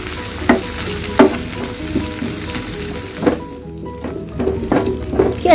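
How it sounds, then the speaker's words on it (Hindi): Red pasta sauce stirred in a pan over a low gas flame, a steady soft sizzle with scraping spoon strokes every second or so, close by and with no talk. "इसे अच्छे से मिक्स कर देते हैं।"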